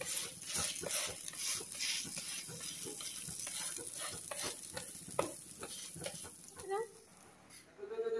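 Banana and flour batter fries in a pan, a busy sizzle broken by irregular scraping and clinking strokes close by, with faint voices in the background.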